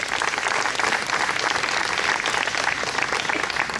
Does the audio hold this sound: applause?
yes